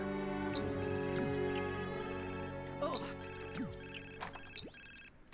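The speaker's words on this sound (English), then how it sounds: "I wonder if that's what my phone's ringing for." A cell phone ringing in The Sims 4, a melodic electronic ringtone with repeating chimes layered over the game's background music, while a person talks.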